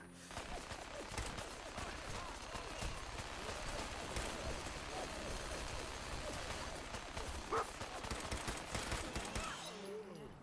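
Gunfire rings out in the Fallout 4 video game as a super mutant is shot, with rapid, dense bursts of shots running almost continuously at close range.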